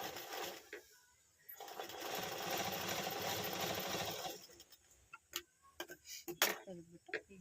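A sewing machine stitching a nightie during a shoulder alteration, a sustained mechanical whir of a few seconds, then short bursts and clicks as the run stops and starts again, fairly close and with no talk.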